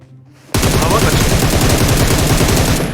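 Rapid automatic gunfire sprays in PUBG Mobile, bursting in abruptly after a short quiet lead-in and continuing as a dense, loud, fast rattle of shots to the end.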